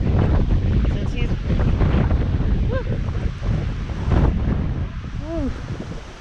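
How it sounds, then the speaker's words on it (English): A cold gust of wind roars loudly across the microphone in a vegetable garden, buffeting in surges throughout, with faint chirps in the background. "that was a cold gust of wind."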